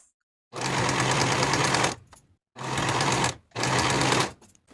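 A sewing machine stitches the center back edges of bodice pieces for a woven romper in three steady bursts, each a dense mechanical whir, separated by brief pauses.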